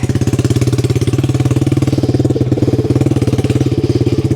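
A 1969 Honda CD90Z motorcycle engine runs with the muffler removed, giving a loud, close, rapid, steady popping exhaust beat that holds a constant idle-like rhythm throughout, with no voices.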